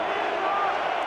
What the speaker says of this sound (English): DC crowd getting loud,